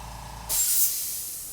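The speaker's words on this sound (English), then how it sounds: "that was the air compressor to my airbrush. I forgot to shut it off." An airbrush air compressor lets out a sudden sharp hiss of air that starts abruptly and then tapers off gradually over about a second, heard alone and close.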